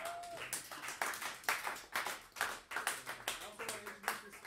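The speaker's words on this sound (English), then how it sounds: "Give us a hand of round of applause" A crowd applauds a jazz quintet with steady, dense clapping that rises and falls in waves, with a few voices and cheers mixed in.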